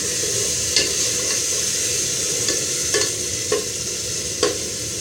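Ginger paste sautéing in a pan over maximum flame, a loud, continuous close sizzle punctuated by several sharp ladle scrapes and taps at irregular intervals.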